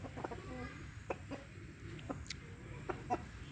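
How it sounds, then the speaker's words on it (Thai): A young, heavy rooster of about 3.2 kg gives short clucks and low calls at a fighting-cock farm, faint and intermittent over quiet background noise. "ตัวนั้นนะไก่หนุ่มนะครับนะตัวใหญ่ครับนะสามโลสองครับนะ"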